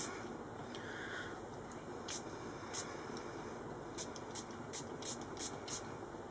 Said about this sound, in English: So now I'll show you the difference if I just do one quick spray.